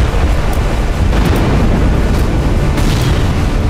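Artillery blast from the Russia-Ukraine war, a loud, dense, rumbling boom that rolls on continuously, heavy and close, with buffeting wind-like roar and no voices.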